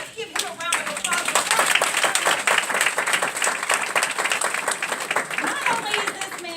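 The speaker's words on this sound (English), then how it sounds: "let's give him a round of applause." An audience claps through a round of applause for a company CEO at a presentation, a dense steady patter of many hands, fairly close, with some voices mixed in.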